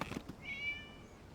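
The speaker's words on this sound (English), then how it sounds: "It was just a cat." A single cat meow from a Genshin Impact game scene, a short wavering cry with a rising-then-falling pitch, fairly quiet and heard alone after a brief soft rustle, with faint background ambience around it.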